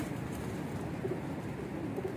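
Pigeons coo softly in a noisy rooftop setting, a couple of low murmuring calls rising briefly over steady background hum, with no voices.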